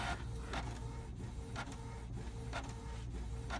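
A Canon inkjet printer runs steadily with a continuous mechanical hum, broken by regular rhythmic carriage passes and clicks about every half second.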